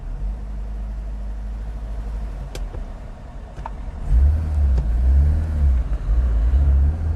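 A Vauxhall Viva HC car engine labours while driving, with a steady low rumble for several seconds that then grows louder and rougher as it pulls unevenly, running continuously and close.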